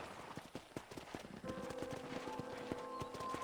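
Horse hooves clip-clop in a quick, regular rhythm in the video game Red Dead Redemption, with a sustained musical tone entering partway through.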